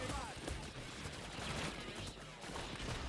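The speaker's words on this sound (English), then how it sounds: "Trying to land headshots on bulldozers." Gunfire from a heist video game while shooting at bulldozer enemies: rapid, sustained volleys of shots with sharp cracks throughout, steady and fairly loud amid cluttered game noise.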